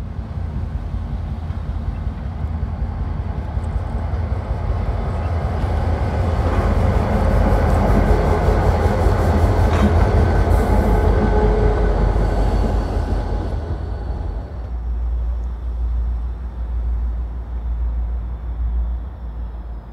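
A WATCO local freight train rolls along the rail line with a heavy, continuous low rumble of wheels and cars that swells loud and close in the middle before easing off, with no talk.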